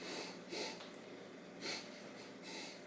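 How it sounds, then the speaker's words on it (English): Someone sniffing a glass of 2015 I.S.G. Artemis Cabernet Sauvignon in quick bursts, four short close breathy sniffs spaced about a second apart, quiet and with no talk. "we're going to take long and short bursts of sniffs, so we're able to really get all of our olfactory factors"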